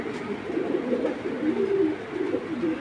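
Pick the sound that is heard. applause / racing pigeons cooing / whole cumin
racing pigeons cooing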